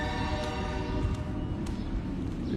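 Train horn sounding steadily over the low rumble of a passing train, loud and continuous throughout the short stretch, with traffic noise nearby.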